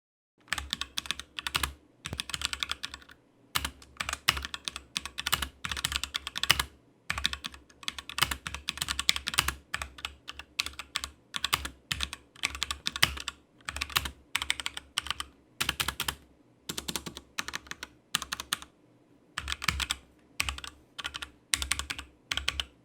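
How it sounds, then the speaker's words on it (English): A HyperX Alloy Origins Core mechanical keyboard with HyperX Red linear switches is typed on steadily up close, with rapid bursts of crisp key clacks broken by brief pauses and no voices. "I've recorded an audio test typing if you want to hear what these sound like"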